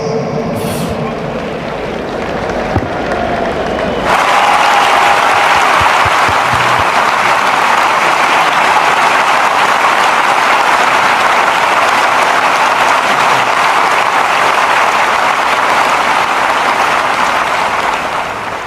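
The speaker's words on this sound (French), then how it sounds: "Merci d'applaudir la fin de cette séquence." A large crowd at an outdoor military parade ceremony in Congo breaks into loud, sustained applause that starts abruptly and continues as a dense, even roar of clapping to the end.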